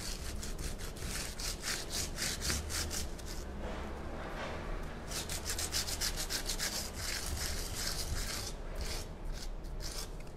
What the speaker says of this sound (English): So there I sanded on my flat surface.